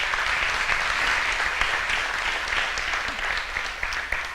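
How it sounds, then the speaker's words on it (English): Steady applause from a church congregation during a service, a dense, even patter of many hands clapping at moderate distance for several seconds with no talk over it. "but they still deserve a round of applause"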